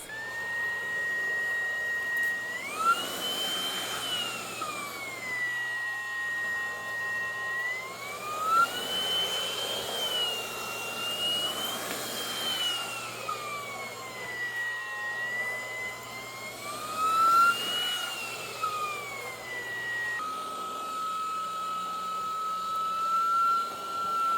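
A Dreametech T30 cordless vacuum cleaner runs close by with a steady whine that rises and falls in pitch as it works across carpet and hard floors, its motor hum continuing alone without any voices.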